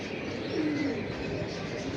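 Old-breed pigeons in a loft cooing, a soft low warbling coo over a continuous background of birds.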